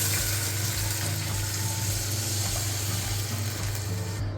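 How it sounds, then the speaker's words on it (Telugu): Water poured into a hot pan of roasted rice ravva for upma, a dense continuous hiss and gush of pouring and sizzling, close and loud, with no voices. "ఇప్పుడు నేను నీళ్ళు పోసుకుంటున్నా"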